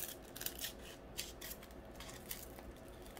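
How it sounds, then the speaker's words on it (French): Scissors snipping around a diamond painting sheet, a run of close, soft crisp cuts and rustling paper with steady rhythm, no talking. "Je vais essayer de couper autour."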